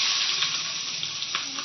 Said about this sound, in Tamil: 2 ஸ்பூன் ஆயில் ஊற்றிருக்கேன். அதுக்கு பட்டர் பீன்ஸ் கூட்டுக்கு வெங்காயத்தை போட போகிறோம்.